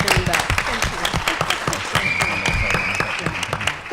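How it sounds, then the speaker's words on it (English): An audience at a policy conference session applauds Congresswoman Karen Bass, the individual claps sharp and distinct in a lively burst that carries on without letup. "So let's give her a big round of applause"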